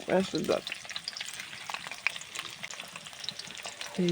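Pieces of snakehead (shol) fish fry in a pan for a sour-spicy curry, giving a steady close sizzle with stirring scrapes and a few louder clatters at the start and end, no talking.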